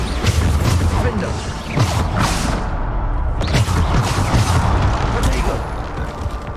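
Bombarda spell blasts in Hogwarts Legacy land in quick succession as loud, booming explosions with crashing debris. A voice is heard over the blasts.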